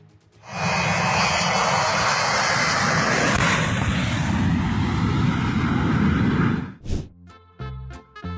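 A loud, roaring airplane engine just after takeoff, a steady powerful drone lasting several seconds, then a sharp break and a few choppy bursts at the end.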